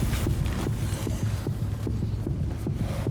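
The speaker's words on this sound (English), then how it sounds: "I hear the heartbeat racing" A rapid, racing heartbeat in the video game Lords of the Fallen thumps as a steady low double pulse, repeating evenly over a dull hum.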